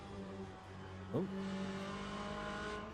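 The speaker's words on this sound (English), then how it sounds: "Porsche doing Porsche things. Backwards at high speed direction changes." Porsche race car in the LMU racing game, engine tone holding steady before a sudden swooping pitch change as it spins backwards at high speed, then settling into a steady drone.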